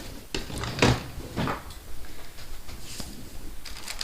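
A drawer in a home sewing studio being shut after pressing, giving a few short knocks and slides close by, with a louder thump near the start and quieter clicks following, no one speaking.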